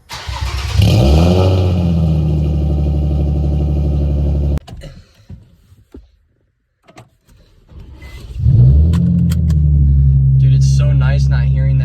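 A G35 sedan with a newly installed Y-pipe starts up and idles with a deep exhaust rumble. The engine cuts off midway, a few clicks and clunks follow in near silence, then it starts again and settles back into a loud, close idle.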